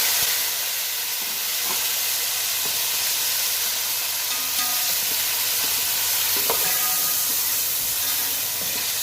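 Browned onions frying in a pan as tomatoes go in, for a tahari rice dish, giving a loud, steady, close sizzle and hiss with a few small clicks and knocks throughout.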